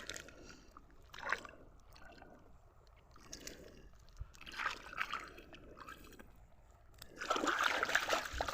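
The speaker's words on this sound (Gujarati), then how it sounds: "આવી રીતે અહીંયા જુઓ પાણી લીક થવા માંડે છે." Water leaks out of a jar and trickles in faint, intermittent splashy bursts. The bursts swell at several points and grow strongest near the end, over quiet background noise.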